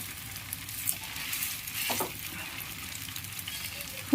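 Semolina sandwich frying in a pan over medium heat, a steady soft sizzle running throughout with a faint crackle near the middle, no voices.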